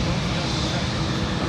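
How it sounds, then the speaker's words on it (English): A Qatar Airways Dreamliner airliner at Manchester Airport gives off a constant, fairly loud jet roar, steady and unbroken with no talking over it. "Qatar Dreamliner"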